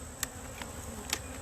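Honey bees at a hive produce a low, continuous buzzing hum with a few brief closer passes, heard alone without talk.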